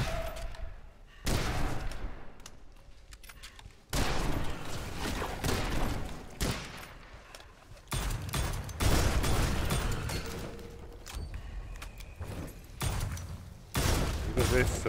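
Gunfire in the dark fantasy shooter Witchfire on its first level, with repeated loud bursts of shots and heavy thuds, several separate volleys spaced across the stretch, some with a low booming tail.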